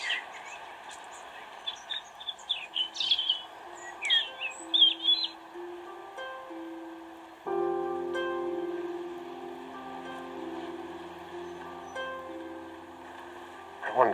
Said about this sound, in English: Birdsong gets louder and louder the more I pause.